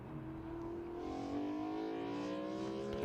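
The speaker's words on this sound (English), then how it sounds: "A glorious noise of the BMW E46 M3 GTR" A BMW E46 M3 GTR race car engine at a GT Cup sprint race at Silverstone holds a loud, sustained high-revving note, with its pitch climbing steadily as the car accelerates nearby.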